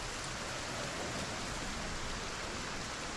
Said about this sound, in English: very clearly this is a proper storm in the game. Not just rain.